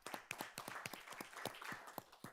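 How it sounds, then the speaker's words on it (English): Scattered clapping from a small group at a school board of trustees meeting, a dozen or so distinct claps in an irregular rhythm, faint and thin, with no talk over it. "Let's give HR a round of applause"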